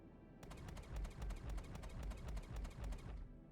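Rapid laser cannon fire in the space game Star Citizen, a quick regular burst of about ten sharp shots over a low rumbling hum, then the firing stops.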